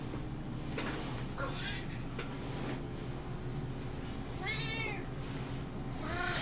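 A pet cat meows loudly in a few drawn-out calls over steady room hum, with faint background noise between them.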